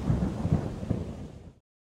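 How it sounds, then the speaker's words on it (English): A thunderstorm sound effect: a heavy, low thunder rumble with a hiss of rain, loud at first and then cut off abruptly after about a second and a half. "a terrible storm came"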